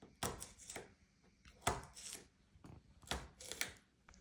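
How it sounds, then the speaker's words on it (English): A knife chops garlic into small pieces on a cutting board in a close, quiet run of sharp taps, coming singly and in quick clusters with short pauses between. "after we're done cutting up our garlic"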